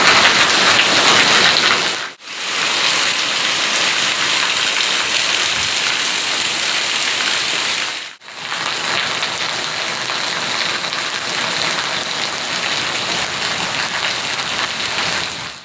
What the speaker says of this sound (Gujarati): ફૂલ વરસાદ ચાલુ થઈ ગયો છે